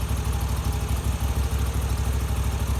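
A Moto Guzzi V85 TT motorcycle engine idles steadily at close range, a low, even pulsing rumble that holds without a break and with no voices.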